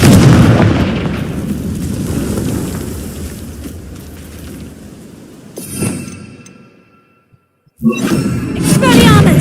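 Confringo fire spell blasting in Hogwarts Legacy, a heavy roaring burst of booming rumble that fades into near silence before another loud surge rises, with a voice faintly under it.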